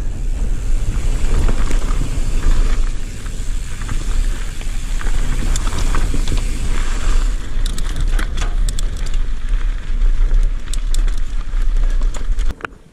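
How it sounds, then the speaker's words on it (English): Strong headwind at a bike park roaring across the microphone in a loud, continuous buffeting rush, broadband and unbroken for most of the stretch, with scattered crackling knocks from riding over it and no talk. "it's a big headwind"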